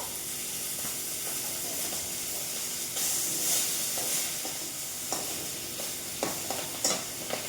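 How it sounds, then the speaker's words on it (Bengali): Fish sizzling and spitting steadily in hot oil in a pan, with occasional clinks and stirring knocks over the continuous frying hiss. "মাছটাকে একটুখানি ভেজে নিলাম।"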